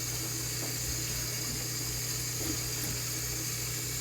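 Lukewarm water rinsing a Portuguese Water Dog puppy's belly during a bath: a continuous, even rush of running water like a tap or sprayer, with a low steady hum under it and no voices.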